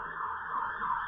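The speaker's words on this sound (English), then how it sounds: "Sorry about the sirens, that's my end." An emergency vehicle siren comes in through an open window, a steady wailing tone that sounds fairly close and carries on through the whole brief moment with no speech over it.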